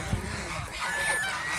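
Farm geese give a brief run of honking calls, moderately loud against a noisy outdoor background.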